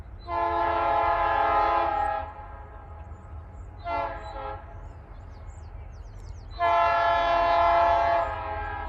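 Locomotive horn from a heavy freight train of 29 loaded cars led by the Green Goblin and two SD40s climbing a hill in Williamsburg: a long loud blast, a short one, then another long blast over a low rumble.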